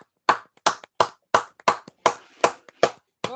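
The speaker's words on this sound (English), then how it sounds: "We've got some virtual clapping going on as well" Participants in an online meeting clap over their connections, a run of about nine sharp, evenly spaced claps heard close and clear against silence, each one clipped short.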